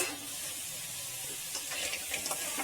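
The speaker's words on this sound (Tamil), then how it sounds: "ஒரு 2 மினிட்ஸ் ஃப்ரை ஆனால் போதும்" Crab for crab masala fries in hot oil, giving a steady, close, bright sizzle with faint stirring bumps toward the end.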